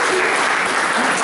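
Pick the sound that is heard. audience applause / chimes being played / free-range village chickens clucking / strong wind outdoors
audience applause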